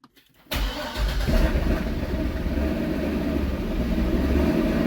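A C6 Corvette engine after a camshaft swap cranks and catches, then settles into a loud, steady, lumpy idle that runs on close by with no talk.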